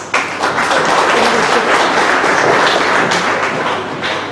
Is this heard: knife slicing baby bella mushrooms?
no